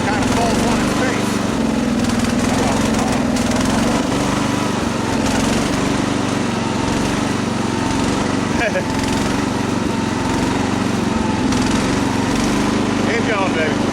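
A 16-horsepower riding mower engine labours up a small hill, droning steadily and loudly close by for the whole stretch, its pitch sagging under load, with a voice occasionally talking over it.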